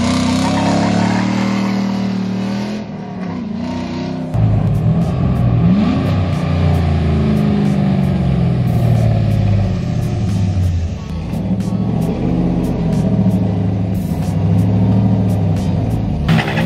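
Pickup truck engine running and revving close by, a loud continuous rumble that dips briefly, then rises and surges again with shifting pitch, with faint voices in the background.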